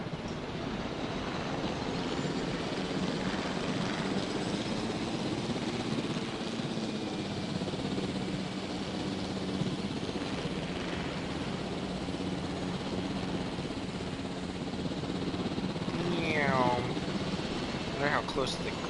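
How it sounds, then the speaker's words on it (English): A helicopter in the Jurassic World Evolution video game drones steadily throughout with a constant rotor and engine hum, fairly even in loudness, with a brief higher whine rising late. "I'm gonna take the helicopter and fly around a bit"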